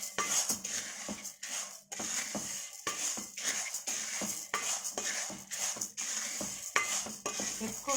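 A spoon stirs and scrapes lentils roasting in a pan for kandi podi, with dry irregular rattling and scraping strokes over a faint sizzle, close and clear with no talk.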